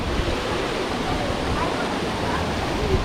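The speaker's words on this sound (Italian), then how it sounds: "Siamo sempre qua dove c'è la fontana di Trevi." Water from the Trevi Fountain in Rome pours and splashes in a constant, broad rushing wash, close and even throughout.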